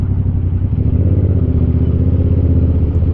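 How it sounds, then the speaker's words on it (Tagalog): A Yamaha MT-07 motorcycle engine runs steadily at a low, throbbing idle inside an enclosed space, loud and close with a constant rumble. "Grabe ang ingay ng bike mo, Rap"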